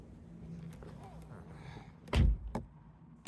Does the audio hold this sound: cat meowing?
no